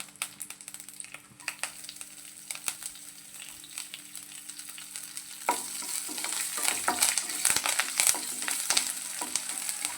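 Curry leaves and green chillies dropped into hot oil, quiet stirring at first, then a sudden burst of crackling sizzle with sharp spatters and scraping that keeps going to the end.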